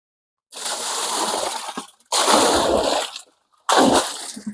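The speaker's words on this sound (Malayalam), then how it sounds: "കിണർ കഴുകുകയാണേ." Water splashes as a well is cleaned, arriving in three separate heavy sloshing bursts, each about a second long with brief silences between, close and fairly loud.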